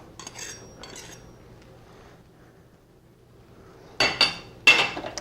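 A measuring scoop rasps softly in flour for pumpkin pancakes, then after a quiet gap the flour is tipped into a mixing bowl with a couple of louder scraping, tapping bursts near the end.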